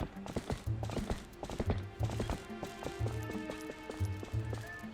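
A horse gallops in Zelda: Twilight Princess HD, its hooves clip-clopping in a quick, steady rhythm, close and clear, with a music track behind it.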